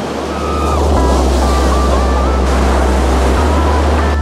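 Loud, continuous roar of ocean surf breaking nearby on a Fuerteventura beach, with heavy wind buffeting the microphone throughout.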